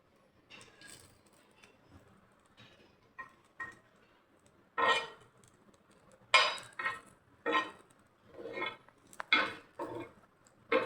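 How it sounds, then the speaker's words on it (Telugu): A utensil stirs food frying in a pan, making a series of irregular metallic clinks and scrapes that come in short bursts with quiet gaps between them, close and with no talking. "దీనిని బాగా కలబెడుతుండాలి."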